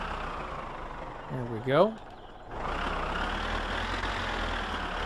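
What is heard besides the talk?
tractor engine idling in the video game My Summer Car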